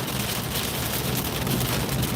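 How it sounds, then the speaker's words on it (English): Heavy rain pours down in a dense, continuous hiss, loud and close throughout, with no voices. "It's raining hard, yo."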